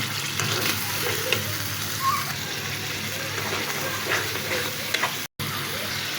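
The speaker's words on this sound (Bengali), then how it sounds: "ভালোভাবে আমি এখন একটু কষিয়ে নিচ্ছি" Chicken shahi korma meat sizzles steadily as it fries in spices and oil, a continuous close crackle with faint scraping stirs and a brief drop-out near the end.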